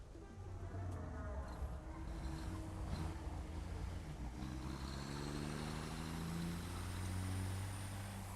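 A heavy truck in the game Satisfactory labours uphill with a steady, loud low engine drone and a rising whine, droning on alone for the whole stretch.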